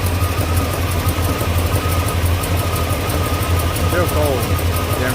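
A cold car engine idles steadily after a restart, fitted with an MSD 6AL-2 programmable ignition box, a loud continuous low rumble with slight unevenness and a voice speaking over it.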